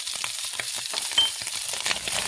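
Cayenne pepper dumped into a pan of Cajun dirty rice mixture frying hot: continuous close sizzling with small stirring scrapes and crackles, no voices.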